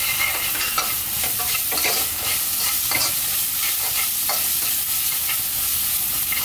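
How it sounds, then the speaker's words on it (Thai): Shrimp and chilies stir-fried in a wok: loud, steady hissing sizzle with repeated scraping strokes of a spatula against the metal, no talking. "ผัดให้เข้ากันก่อนครับ"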